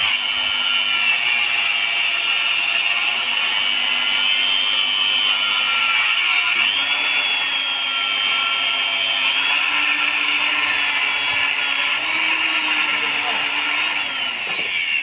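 A power tool cuts through steel rod at a building site, giving a loud, continuous grinding whine with a steady tone that shifts pitch slightly partway through and runs the whole time with no break.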